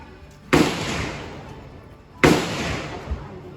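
Gunfire at the Cu Chi tunnels shooting range in Vietnam: two sharp, loud shots about two seconds apart, each with a long echoing tail.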